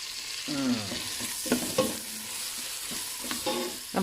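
Pork being stir-fried in a hot pan for Lao-style bamboo shoot curry, with steady sizzling and clattering stirring strokes at close range, the ladle scraping in a few distinct bursts and no talking.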